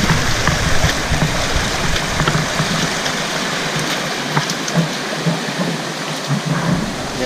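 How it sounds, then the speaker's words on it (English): The Shakwa River cascades down into little pools, a continuous close, loud rushing and splashing of water with no voices. "See here, you see the river cascades down into little pools."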